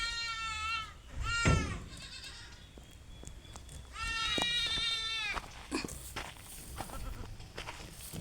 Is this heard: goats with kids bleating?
yes